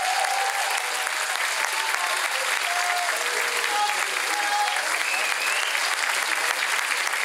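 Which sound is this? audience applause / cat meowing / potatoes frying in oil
audience applause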